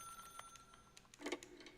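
A telephone rings faintly in The Stanley Parable, a thin electronic trill over a low hum, with one brighter, louder burst near the end.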